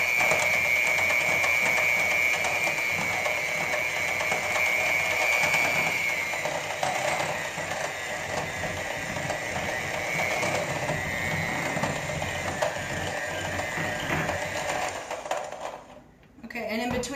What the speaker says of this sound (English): And then you're going to want to mix them together with your hand mixer.